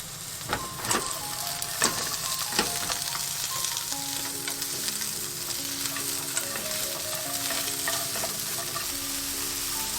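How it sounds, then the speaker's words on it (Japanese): Celery stems stir-fry in salad oil in a frying pan over medium heat, a continuous close sizzle punctuated by sharp spatula clacks early on, then a few faint tonal squeaks over the frying. "フライパンにサラダ油を熱してセロリを炒めます。"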